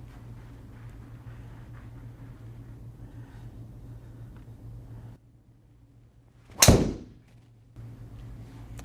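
A PING driver strikes a golf ball once during a driver fitting, a single sharp, loud crack that stands out above a steady low background hum.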